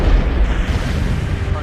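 Loud, dense low rumble of a suicide bomb blast at a parliament gate, a sustained booming roar filling the whole moment with no pause.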